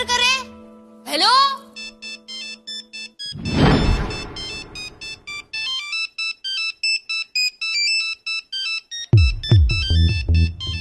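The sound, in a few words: phone ringtone, unanswered call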